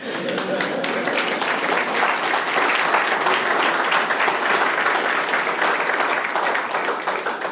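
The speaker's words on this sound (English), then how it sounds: "Yes, you can applaud." Sustained applause from a sizable audience, dense and even throughout, with no pauses.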